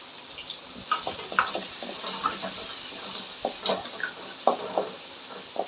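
Onions sizzling in hot oil in a pan with intermittent stirring scrapes and clacks, close by, with no talking.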